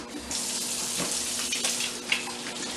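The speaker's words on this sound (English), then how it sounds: "the first thing on Neisha Cuisine is always wash your hands." Running tap water pours steadily into a sink while hands are washed beneath it, a continuous close hiss with small splashy changes and no talk.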